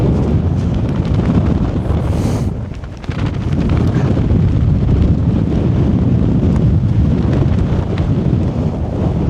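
Strong wind buffets a microphone on the summit of Meall nan Tarmachan, a loud, continuous roar with gusty rumbling and only a brief lull.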